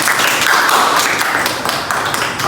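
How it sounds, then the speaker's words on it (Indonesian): Small group clapping together at the close of a student discussion forum, a dense steady patter of hands lasting a couple of seconds with no talk over it. "Beri tepuk tangan dulu."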